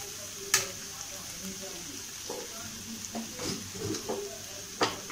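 Food fries in a pan with a steady sizzle while a utensil stirs it, scraping and clinking against the metal at irregular intervals, close and moderately loud.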